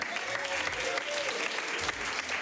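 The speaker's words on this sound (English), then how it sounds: "Hey, ladies and gentlemen, give a round of applause to Simon Schiller." A crowd applauds steadily, a dense wash of clapping from many hands that holds at an even level throughout.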